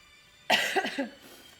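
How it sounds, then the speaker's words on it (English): A single sharp cough bursts out of near silence, with a brief rough follow-through, close and fairly loud, then fades quickly. "I'm so sorry also about the cough."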